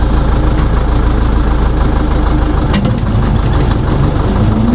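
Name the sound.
tractor engine running with PTO engaged at 1000 RPM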